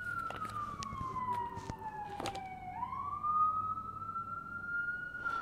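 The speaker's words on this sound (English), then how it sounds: "all the sirens during this reading" Emergency vehicle sirens wail outside, a single rising and falling siren tone sweeping down and back up, moderately distant and faint against room background with a few soft knocks.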